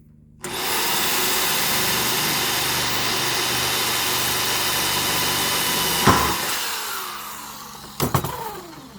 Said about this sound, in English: this drill bit might take a little while because I've been using it a lot and it's getting dull